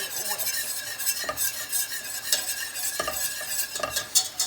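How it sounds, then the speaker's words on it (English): Whisk clattering against a cold pan while milk is worked into a mixture, quick repeated scraping and tapping strokes, close and fairly loud with no talk. "So I've just added the first bit of milk, so it's easiest to do this with a whisk."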